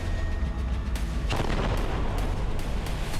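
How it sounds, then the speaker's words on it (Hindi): Heavy aerial bombardment by Israeli aircraft over Khan Younis, Gaza: a loud, continuous rumbling roar with a sharp boom-like burst partway through, then sustained thunderous noise, with no voices. "आसमान से इजराइल के एयरक्राफ्ट भीषण बमबारी कर रहे हैं।"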